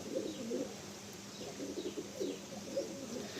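Kolkata pigeons in a loft holding over 250 birds give repeated soft, rolling coos, close and fairly quiet, rising and falling in short overlapping phrases.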